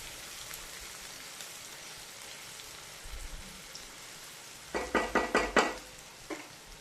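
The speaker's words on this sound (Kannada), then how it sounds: "ಈಗ ಟೊಮೆಟೊನು ಫ್ರೈ ಆಗ್ತಾ ಬಂತು." Tomato frying in a pan for a mint-flavoured puffed rice snack: a faint, steady sizzle runs throughout, then a quick run of five close spatula knocks and scrapes, and one more knock a moment later.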